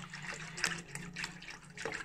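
Cold water from the fridge pours into a container while making strawberry banana jelly, a continuous splashing, gurgling stream at close range, steady and moderately loud with no voices.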